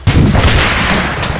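A rocket launcher fires in the ARMA 3 military game, a loud, sharp blast followed by a sustained roaring rush.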